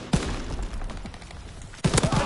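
Aircraft strafing-run gunfire in a video game, two sharp, loud bursts of rapid fire about a second and a half apart over a steady noisy background.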